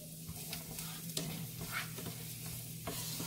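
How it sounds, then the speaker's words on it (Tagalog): Onion sautéing in a pan, a soft continuous sizzle with scraping stirring strokes recurring every second or so, close and quiet with no voices. "ngayon, nasaute natin yung onion natin"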